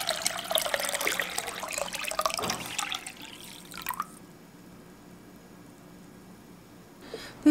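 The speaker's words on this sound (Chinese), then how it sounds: "加水浸泡" Water pours and splashes into a bowl of mung beans set to soak, a busy gurgling stream for about three seconds that stops and gives way to quiet drips and near silence.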